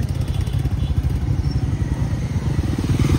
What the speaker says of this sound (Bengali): ফার্স্ট টাইম রয়্যাল এনফিল্ড চালাচ্ছে